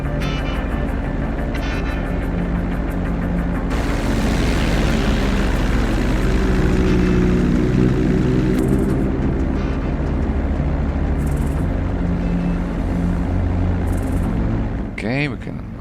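Steady propeller drone of a light aircraft flying downwind in GTA V, loud and continuous, with someone talking over the engine for most of the stretch.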